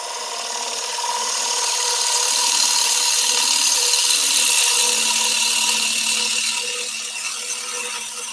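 A sharp bowl gouge takes a slow finishing cut across spinning timber on a wood lathe. It gives a loud, steady hiss and scrape over the hum of the lathe, swelling and easing as the cut moves along.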